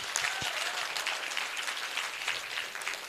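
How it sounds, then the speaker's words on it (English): Audience applause at a graduation ceremony, a dense, steady wash of many hands clapping at once, fairly close and sustained for the whole stretch with no voices on top. "Round of applause."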